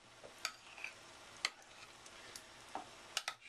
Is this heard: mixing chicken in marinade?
yes